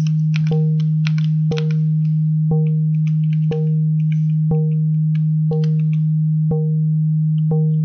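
A steady FM-synthesized tone from an M8 Tracker pulses with short, bright plucked attacks about once per second, a metallic electronic timbre repeating evenly with no voices.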